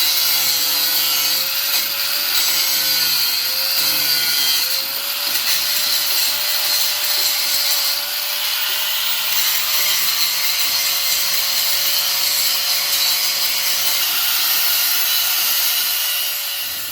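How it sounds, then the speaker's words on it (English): An angle grinder cuts through rusty U-bolts on a boat trailer axle, giving a steady, loud abrasive whine with a faint tonal hum that runs continuously for the whole stretch. "So we're just taking the grinder and just cutting them in two"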